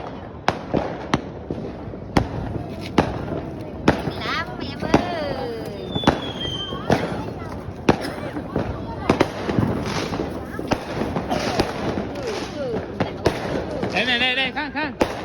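New Year's Eve fireworks burst over a countryside village, dozens of sharp cracks and booms in irregular bursts with crackling and whistling in between, loud and close, while people talk and exclaim throughout.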